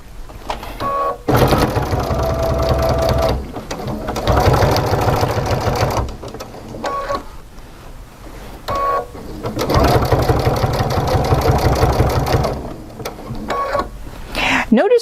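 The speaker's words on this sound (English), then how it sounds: "Machine's all set up. I got the right foot. I got the right settings." Embroidery sewing machine stitching chenille strips in the hoop, with a steady, loud rapid chatter in several long bursts separated by short pauses.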